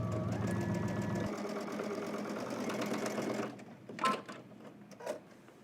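A sewing machine stitches a welt on a cropped jacket with a fast, even mechanical whir that runs close and steady, then stops. Brief clicks and handling noises follow. No voices are heard.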